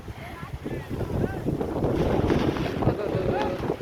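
Steady gusting wind roars across a microphone, with a broad rushing rumble and faint fluttering flaps of tarpaulin sheets underneath, continuous and fairly loud throughout.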